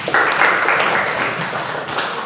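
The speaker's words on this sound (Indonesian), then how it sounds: "Tepuk tangan untuk kelompok 1 dulu." A classroom of students gives a short, steady round of applause, a dense even patter of many hands clapping at close range for about two seconds.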